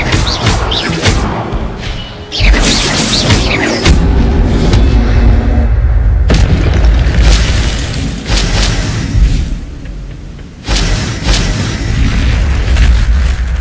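Spell blasts in the Hogwarts Legacy video game, loud booming bursts that rise and fall in several waves with deep rumbling low end.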